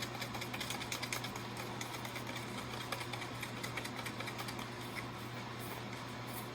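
Acrylic pour paint being stirred in a cup while mixing for pearl cells, a steady close scraping and whirring texture that runs continuously with no voices.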